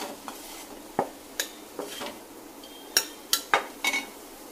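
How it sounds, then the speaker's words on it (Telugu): Fresh coconut and raw mango chutney is scooped from a pan into a bowl, with a handful of sharp metal scrapes and clinks spaced irregularly against a quiet background. "ఇప్పుడు మనం ఒక బౌల్లోకి తీసేసుకుందాం"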